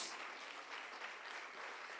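Church congregation clapping during a Spanish-language sermon, a steady, fairly faint wash of applause lasting throughout.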